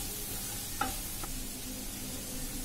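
Spices, two spoons of coriander powder and one of turmeric, stirred in a pan for a masala dosa potato filling: a steady soft sizzle with two light spoon taps against the pan.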